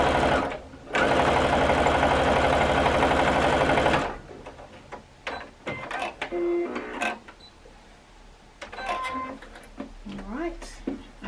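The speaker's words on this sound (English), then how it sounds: "we just want to cut a 1/4 inch seam going all the way down" A sewing machine stitches a quarter-inch seam on Christmas quilt block squares in a fast, loud, rhythmic run of about three seconds, then stops; quieter handling noises and a voice follow.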